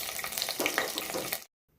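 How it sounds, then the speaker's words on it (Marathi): Green chillies dropped into hot oil with mustard seeds and cumin in a pressure cooker, a brief loud crackling sizzle with sputtering pops that cuts off abruptly after about a second and a half. "जिरे मोहरी तडतडल्यावर हिरवी मिरची टाकून घेतली आहे"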